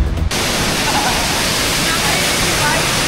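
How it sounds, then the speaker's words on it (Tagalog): Waterfall water thunders in a strong, steady roar of heavy flow plunging downward, loud and continuous after a brief opening moment. "lakas ng volume ng tubig hanggang sa baba, papunta sa baba"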